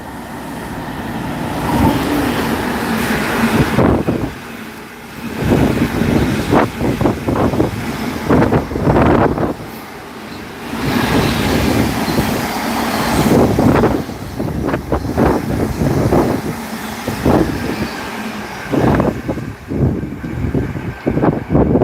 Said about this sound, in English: so there's the freight train that we were saying at the start of the stream